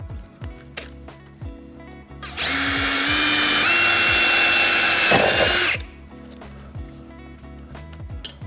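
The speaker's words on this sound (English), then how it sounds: "should be able to drill a couple more holes right here for the airline" A power drill bores holes for the airline of an air ride suspension kit on a Dodge Challenger, one loud sustained whine of about three seconds with rising pitch, then quiet shop noise before and after.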